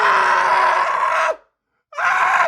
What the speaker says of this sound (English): I'm sick and I'm screaming and coughing at it.